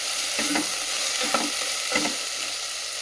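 Curry cooking in a pan, sizzling steadily with a broad hiss while a spoon stirs through it in three scraping strokes, close and moderately loud with no talking.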